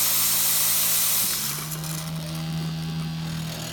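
An Iti espresso machine's steam wand hisses in a steady, broad, close rush of steam, joined partway through by a low humming drone from the machine as the hiss settles.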